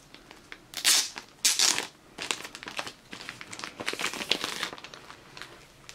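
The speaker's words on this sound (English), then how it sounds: "So, I will take off the plastic." Plastic shrink wrap crinkles and crackles as it is peeled off a Japanese 3CD and DVD box set, with two loud close tearing bursts early on followed by a run of softer, irregular crinkling.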